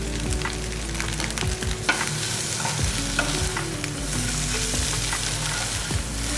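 A spatula scrapes and turns an egg fry in a pan, with a loud continuous sizzle under repeated rhythmic stirring knocks, close up and without speech.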